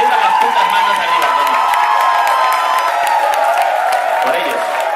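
Concert crowd gives a loud, sustained ovation for the band, dense cheering, whoops and clapping filling the whole stretch without a break.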